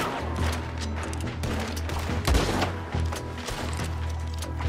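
Repeated gunfire in Red Dead Redemption 2 aimed at a cart, a steady volley of shots over a rumbling low drone, with one louder burst midway; no voices.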